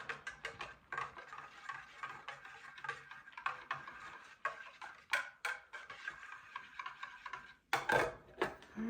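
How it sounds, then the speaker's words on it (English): A spoon stirs protein coffee in a cup, producing rapid, quiet clinks and ticks in a steady rhythm, close and alone. "Just stir it up."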